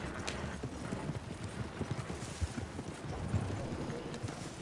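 Horse hooves clip-clop at a steady trot in a Wild West video game set in 1899, rhythmic and moderately close over outdoor ambience, with a faint whinny.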